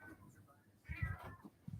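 A house cat meows repeatedly, close and fairly loud, a couple of drawn-out cries wanting to be let in, with a quiet indoor background.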